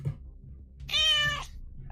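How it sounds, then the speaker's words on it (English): A house cat gives a single clear, drawn-out meow in a quiet room, preceded and followed by low soft background sounds and no speech. "My cat's just in the room."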